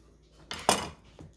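A knife scores a raw fish on a board or dish before it is rubbed with seasoning, giving two or three short close scraping and clinking strokes in otherwise quiet surroundings.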